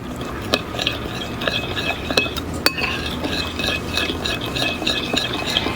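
Oil, bottled garlic and spices stirred together in a bowl for roasted potatoes, with a steady scraping and clinking of a utensil against the bowl and sharper taps at irregular intervals.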